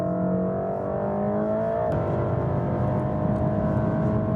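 A Mercedes-AMG E63 S's 4-liter V8 bi-turbo engine drones and revs steadily, with a pitch shift partway through and a continuous throaty roar throughout.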